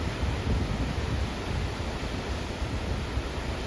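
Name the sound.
Gullfoss glacier-fed waterfall roaring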